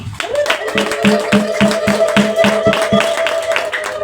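A church congregation claps in unison for God, a brisk, steady run of sharp claps close by, with a voice and sustained tones carrying underneath.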